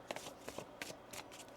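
A deck of tarot cards is shuffled by hand in several quick riffling bursts with short pauses between them, close and crisp, with no speech.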